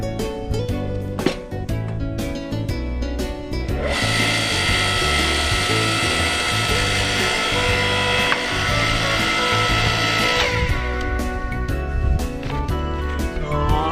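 Electric log splitter forcing firewood apart outdoors in Canada, a loud continuous mechanical whine and grinding with sharp cracking and creaking of wood, steady throughout.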